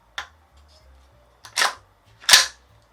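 The charging handle of a Tokyo Marui MTR16 gas blowback rifle is pulled back, making three sharp, close metallic clacks spaced apart, with near silence between them.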